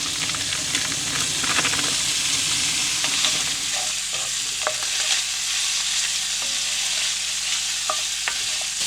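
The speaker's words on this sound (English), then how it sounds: "First, I'm gonna melt 2 tablespoons of butter, and then we're gonna be adding in 10 ounces of this diced smoked bacon." Diced smoked bacon fries in melted butter in a pan at a winter campsite, a loud close sizzle and hiss with stirring scrapes, heavier at first and then settling into a steadier crackle.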